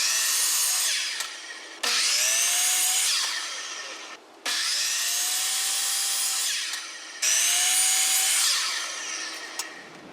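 A power saw cuts half-inch wooden quarter round trim for a custom RV interior door in three long, loud passes separated by brief pauses, each a steady high whine that dips in pitch as the blade bites.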